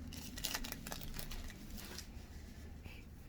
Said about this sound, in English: we can unwrap our cheese